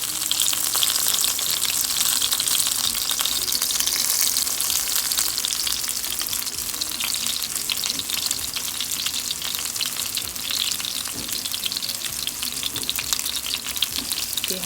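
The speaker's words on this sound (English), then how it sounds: "See how it's cooking fast?" Salmon fries hard in a hot pan, giving a loud, steady, unbroken sizzle that holds at full strength for the whole stretch, with no talking over it.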